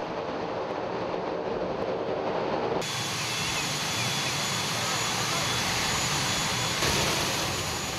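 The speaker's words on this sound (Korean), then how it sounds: "극심한 비행기 소음 속에서도 많은 푸나푸티 섬 주민들이 모여들어 비행기가 내리는 것을 지켜보고 있었다." An airplane lands on the short runway of Funafuti, Tuvalu, with a constant loud engine roar that swells partway through and holds steady to the end.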